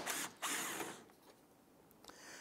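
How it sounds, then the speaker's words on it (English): A 15 mm socket on a swivel working a rear strut nut on a 2012-2017 Toyota Camry, heard as a short close burst of power-tool whirring and ratcheting that tapers into quieter clicks. "Use our 15 millimeter socket with our swivel. Get to this back nut."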